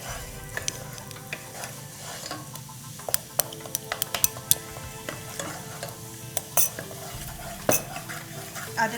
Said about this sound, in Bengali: আদা রসুন পেস্ট দিয়ে পেঁয়াজের সাথে আমরা খুব ভালোভাবে কষিয়ে নিচ্ছি।